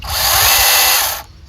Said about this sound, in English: electric mini chainsaw. Perfect for clearing branches and cutting down small trees and shrubs.